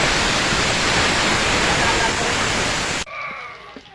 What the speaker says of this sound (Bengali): কড়াই বসিয়ে দিয়েছি, কড়াইতে দিয়ে দেব তেল। আমি পেঁয়াজ কুচি, রসুন কুচি আর কাঁচা লঙ্কা চিড়ে নিয়েছি